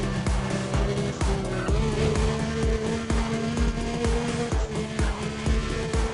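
Car engine roaring and tires squealing in the racing video game Need for Speed: Undercover, with a steady loud engine drone, gear shifts and repeated skids and impacts throughout.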